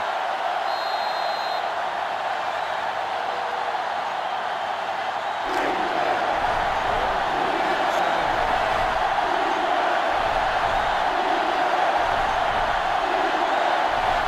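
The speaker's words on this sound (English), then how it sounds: "So this crowd is making their presence felt." A packed stadium crowd in the NCAA Football 2005 video game roars in a continuous loud wash, swelling slightly partway through, with no clear talk over it.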